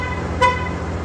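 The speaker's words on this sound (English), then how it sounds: "you should get your horn honk feature" A 2022 RAM pickup truck horn gives one short, sharp honk at close range, heard over a steady low engine idle.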